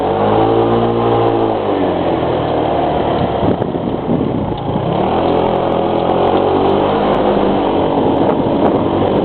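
A motorcycle rides along a road with traffic, its engine droning loud and close and rising and falling as it accelerates and eases off, with rushing wind noise throughout and no talking.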